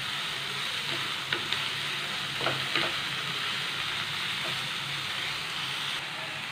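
Onions sautéing in a pan over high flame for an egg and onion dish, a constant close sizzle broken by a few sharp scraping stirs, with no talking.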